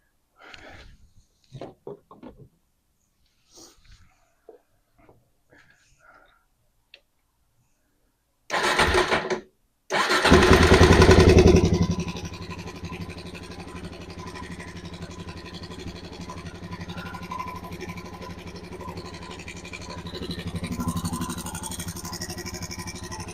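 A Suzuki DRZ400 motorcycle engine cranks briefly, then catches and roars loudly before settling into a steady idle that keeps running, with a slight rise near the end; faint handling noises come before it starts.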